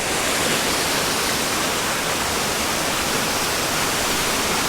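A waterfall, Lilydale Falls in Tasmania, roars steadily, a dense, unbroken rushing wash that stays even and loud throughout.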